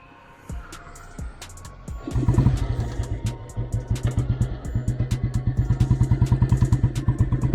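An old restored Bullet motorcycle starts moving on a road test, its single-cylinder engine thumping in a steady, loud, rapid rhythm that builds after a couple of seconds of clatter and settles into a continuous close pulse.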